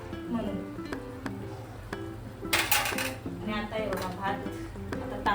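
Pots and utensils clink and scrape as prawn biryani gravy is moved into a large cooking pot in a home kitchen, with repeated metallic knocks under steady talking.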